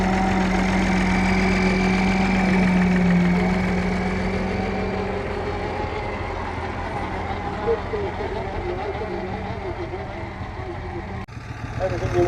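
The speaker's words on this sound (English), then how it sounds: "they got the very distinctive sound of the Field Marshal. Big single cylinder diesel engine, horizontal diesel engine." A Marshall Field Marshall single-cylinder horizontal diesel tractor engine, built in Gainsborough, Lincolnshire, runs steadily at a country show, a low chugging idle throughout with someone talking over it.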